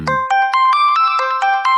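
An L Mobi mobile phone plays its ringtone, a loud, bright electronic melody of short repeated beeping notes in a quick, even rhythm, heard up close with no other sound.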